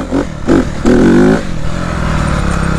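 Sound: dirt bike revving for a wheelie

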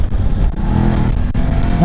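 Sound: BMW F 750 GS motorcycle engine accelerating

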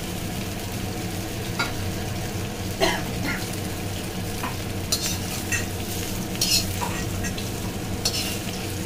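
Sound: bhakosa being stirred and fried in a pan

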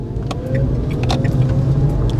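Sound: Dacia Spring electric car accelerating at full throttle

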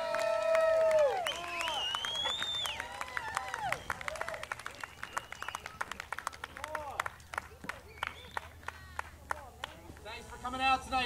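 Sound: audience applause after live band set

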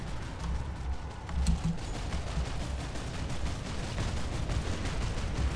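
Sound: sniper rifle gunfire in video game Planetside 2

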